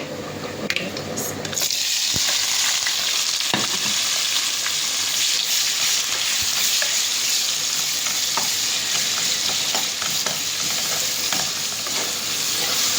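Onion and tomato hit a hot pan and fry, bursting into a loud, continuous sizzle after a short quieter start, with occasional clicks and scrapes of stirring, close and steady throughout.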